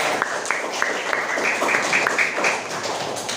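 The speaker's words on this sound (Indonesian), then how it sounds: "Tepuk tangan untuk Azam dan Azam." Classroom applause for a student: scattered hand claps with a few sharp individual claps over a steady noisy room, moderately loud and lasting a few seconds.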